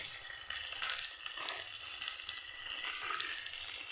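Diced potatoes fry in hot oil with turmeric and salt, a steady close sizzle and crackle running throughout, with occasional scrapes and clinks of stirring mixed in.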